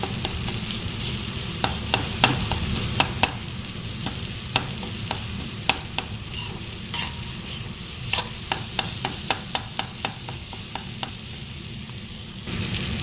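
Dried fish sizzles and fries steadily in a pan for chutney, with sharp clicks and scrapes of a spatula stirring at irregular intervals over the continuous crackle.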